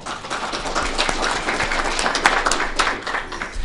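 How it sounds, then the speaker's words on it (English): Applause from an audience at a school district board meeting: a dense, steady patter of many hands clapping, fairly close, lasting a few seconds without a break. "I did that so I would get applause during my speech."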